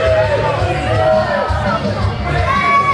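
Wrestling crowd at a Future Pro Wrestling event roaring and jeering continuously as a wrestler makes his entrance, a dense loud babble of shouts and cheers filling the hall throughout.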